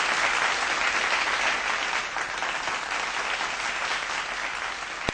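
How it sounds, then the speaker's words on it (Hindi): A studio audience claps loudly and continuously in dense applause that carries on for several seconds before fading slightly, with no voices over it. "ताली बजा लो यार अपने लिए, देखो ताली बजाओ"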